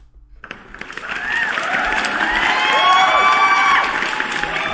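An applause sound effect plays on a crypto news livestream: crowd clapping and cheering swells in after a brief silence and stays loud and steady.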